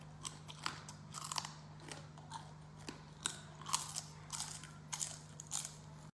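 Repeated crisp crunches and cracks from chewing a big fried rainforest scorpion, close to the mic and steady for several seconds over a low electrical hum, with no speech.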